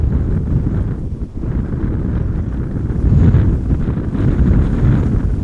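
Wind gusts buffet the microphone at Amsterdam Schiphol Airport, a loud, continuous low rumble that swells and eases in uneven waves.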